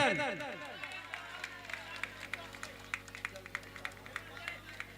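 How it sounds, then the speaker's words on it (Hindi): A crowd at a live village Ram Katha devotional music festival claps in a scattered, rhythmic way, individual hand claps standing out over a steady droning background and some chatter. "जोरदार ताली आप सबसे निवेदन।"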